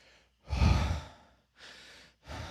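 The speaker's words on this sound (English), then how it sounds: "there's a lot of these deep breathing sounds as well as the track progresses" Deep breathing within an ambient music track: a long, heavy exhale followed by two softer breaths, close and prominent with gaps of silence between.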